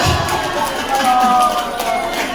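Applause and crowd noise fill a dinner gathering, a dense steady patter of clapping that runs throughout with voices talking underneath.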